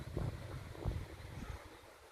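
Strong river current rushing past in an outdoor setting, a steady broadband wash with gusty low rumble and a few surges, moderately close and fairly quiet, with no voices.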